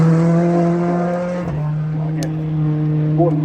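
A Skoda rally car runs a special stage at a rally challenge, its engine holding a steady loud drone with a brief dip and shift in pitch midway, close and continuous.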